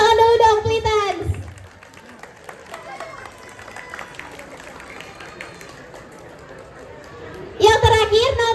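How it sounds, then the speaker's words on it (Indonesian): Students at a school student-council campaign event give a few seconds of crowd applause, a loud, continuous wash of clapping between stretches of a voice speaking. "Kasih tepuk tangan dulu dong, Plitans"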